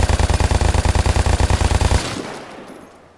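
LMG machine gun in the Vigor video game firing a loud, rapid, evenly spaced burst for about two seconds, then stopping abruptly and leaving a fading echo.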